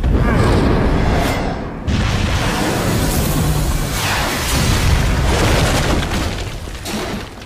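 Missiles exploding in the video game Metal Gear Solid V: The Phantom Pain, a loud run of deep booms and blasts rolling one into another over several seconds, close and heavy.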